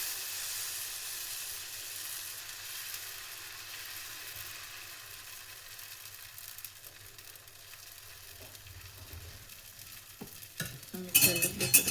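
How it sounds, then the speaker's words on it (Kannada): Masala dosa batter, made with ration rice, spread on a hot oiled pan, giving a soft, steady hiss that grows into louder scraping and crackling near the end. "ಸೊ ಈಗ ದೋಸೆನ ಹಾಕ್ತಿದ್ದೀನಿ."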